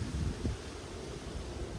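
Gentle wind blowing steadily, a soft low rumble with occasional gusts brushing the microphone, fairly quiet and without voices.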